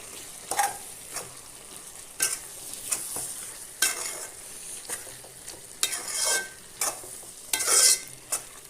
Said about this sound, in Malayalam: എല്ലാം കൂടെ നല്ലതുപോലെ ഒന്ന് നമുക്ക് മിക്സാക്കി കൊടുക്കാം.